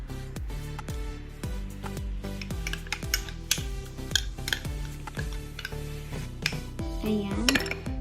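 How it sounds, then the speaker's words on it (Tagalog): Mustard, honey and spicy banana ketchup are stirred together in a bowl, with a quick, regular clinking and scraping of a utensil against the dish throughout, close and clear, no talking. "Then, i-mix lang natin siya. Haluin natin."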